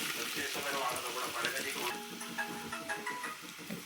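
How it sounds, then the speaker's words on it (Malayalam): Chopped onion frying in melted butter for butter chicken, a steady close sizzle and hiss with faint stirring, continuous throughout and partly under a voice speaking. "ബട്ടർ ഉരുകിയ ശേഷം അതിലേക്ക് അരിഞ്ഞു വെച്ചിട്ടുള്ള സവാള ചേർക്കാം."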